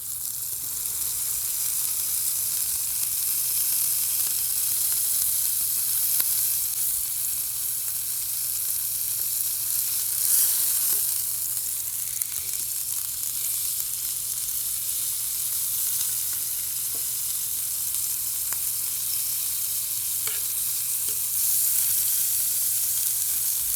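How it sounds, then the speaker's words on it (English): Ground beef browning in a pan, cooked from frozen, sizzling steadily at moderate loudness throughout with a few faint clicks and no talk. "Those will continue to brown while we let the other side cook."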